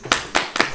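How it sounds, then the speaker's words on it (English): A few hands clap three times in quick succession, close and fairly soft, the separate claps plainly distinct rather than a crowd ovation. "Give him a round of applause."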